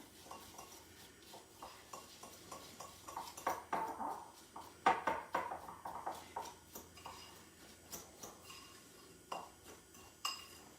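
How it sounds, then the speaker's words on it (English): A fork scrapes and clinks against a bowl while mixing a brown sugar mixture, with quick, uneven, close scratching strokes and occasional sharper taps, heard alone without talk. "I'm just going to mix this all together. And I'm using a fork just so I can break up that, the brown sugar."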